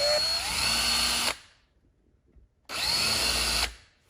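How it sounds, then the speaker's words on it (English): A power drill drilling out holes in a metal motorcycle fuel petcock whines loudly in two bursts, each over a second long, with a short quiet pause between them. "Now I'm going to drill out these a little bigger so I can take the top plate off."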